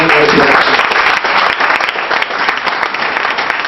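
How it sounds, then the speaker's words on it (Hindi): Audience applause at an indoor talk, loud dense clapping from a crowd that carries steadily from start to finish without any speech over it. "तालियां तो बजनी चाहिए"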